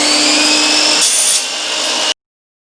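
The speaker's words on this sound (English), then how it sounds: "I wouldn't try to cut steel or anything like that with it, because it is a wood blade, but it will do aluminum." A chop saw fitted with a wood blade slices through aluminum tubing, a loud high-pitched whine with a harsher bite in the middle that cuts off abruptly at the end.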